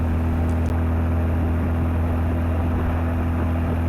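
Engine of a 1963 MGB sports car with its muffler, a steady low droning hum and whir held at an even level throughout, with no voices.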